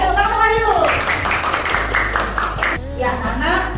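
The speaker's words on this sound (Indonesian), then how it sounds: "tepuk tangan sama Wahyu" Students in a classroom math lesson clap together for a classmate in a short burst of rhythmic, close claps, with a woman's and children's voices speaking around it.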